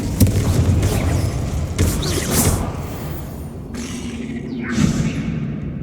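Confringo fire spell blasts in Hogwarts Legacy, booming impacts and bursts over a dense rumbling game backdrop, a few loud hits early on and another swell near the end.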